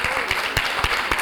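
A conference audience at a women judges' session applauds as the moderator, a Nigerian Supreme Court justice, is welcomed, producing a dense, steady wash of clapping in a short burst.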